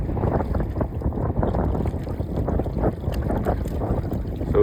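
Steady, loud wind buffeting over open water during a test of a Newport NK180 HD motor on an Old Town 120 PDL Pro kayak, a constant rushing roar with gusty swells throughout.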